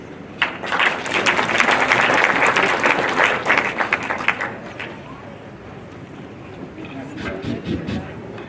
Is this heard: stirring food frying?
no